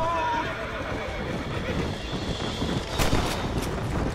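A horse whinnies briefly at the start amid dense Red Dead Redemption game noise, with a rumbling background and a couple of sharp bangs near the end.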